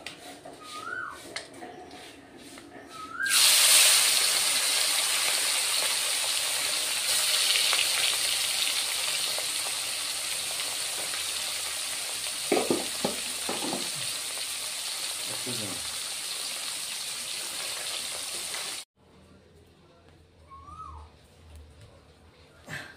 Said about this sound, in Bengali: তো চাপলা মাছগুলিও ভেজে নিচ্ছি